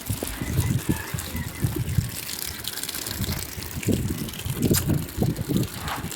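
Taro leaves being rinsed by hand in water at home, giving repeated irregular splashes and sloshing at close range, with no talk.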